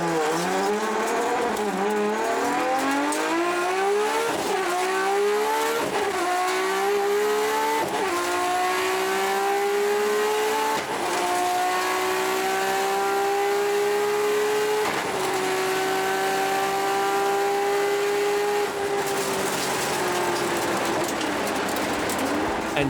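A Gidgee Motorsport Nissan Skyline GTR R33 accelerates hard down a runway at a top-speed event, its engine note climbing through several gear changes with sharp breaks between them, loud and close, then holding a high whine near the end.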